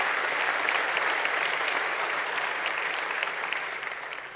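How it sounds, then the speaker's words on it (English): An audience applauds Henry at an anti-Brexit convention event, with dense, lively clapping that stays strong for several seconds before thinning and tapering off at the end. "if we just give him a round of applause too"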